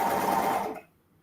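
Sewing machine stitching fabric for a ruffle dress, a steady close whirring run that stops abruptly after under a second, leaving near silence.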